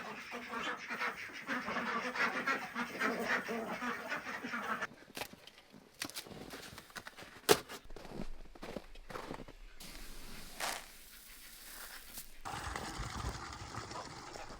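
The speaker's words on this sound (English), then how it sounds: "the ducks will still swim in the water and make a mess" Ducks quack and shuffle around heated water bins in freezing weather, with intermittent soft calls, splashes and footstep-like rustles close by, fairly quiet overall.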